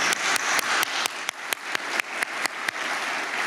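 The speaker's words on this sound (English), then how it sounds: "let's give a warm round of applause for Lori" A conference audience applauds at the closing of ICSE 2023, a software engineering event. The clapping is steady and moderately loud, with sharp individual claps standing out at a regular rhythm above the dense wash of hands.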